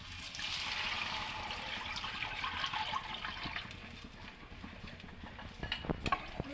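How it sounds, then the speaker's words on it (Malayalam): Rice water is poured into hot ghee in a pan for halwa, a rushing, gurgling pour with bubbling that eases midway, then scattered splashy stirring knocks near the end, close and alone. "അതിലേക്ക് കഞ്ഞിയുടെ വെള്ളം ഒഴിക്കുക."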